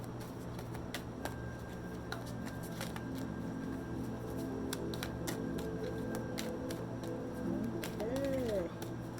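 Tarot cards are shuffled by hand in a series of soft, rapid riffling and flicking bursts, close and fairly quiet, with a voice speaking near the end.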